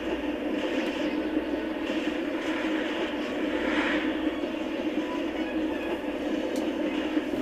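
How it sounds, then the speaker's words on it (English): A train in the Polar Express video game rumbles past as a steady, loud mechanical roar with a low drone, heard alone with no talking. "Horrible parents didn't wake up after they heard a fucking train."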